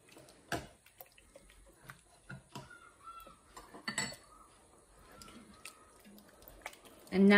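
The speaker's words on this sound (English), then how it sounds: "Give it a good stir." A spoon stirs a pot of chickpea curry with garam masala, giving faint scattered clinks and soft scrapes against the pot, with quiet pauses and a louder knock at the end.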